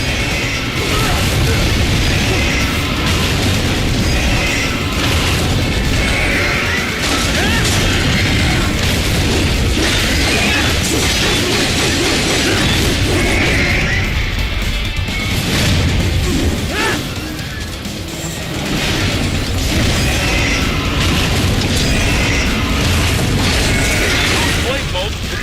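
Missiles and heavy blasts boom and crash in a dense, continuous Metal Gear Rising: Revengeance battle, loud and unbroken throughout, with voices talking over the action.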